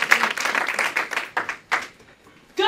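A church congregation applauds during a sermon, a dense patter of clapping that swells and fades in several short bursts before thinning out near the end.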